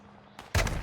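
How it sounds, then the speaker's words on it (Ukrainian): A short burst of loud gunfire in the video game Call of Duty: Warzone DMZ erupts after a quiet moment, sharp and close, with a fainter shot just before it. "Зліва боти стріляють десь отам."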